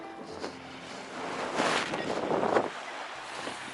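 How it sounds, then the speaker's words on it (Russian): A ferry moving along the river, a steady broad wash of engine and water noise with wind buffeting the microphone, the rumble swelling briefly in the middle before easing, no voices. "Паром идет."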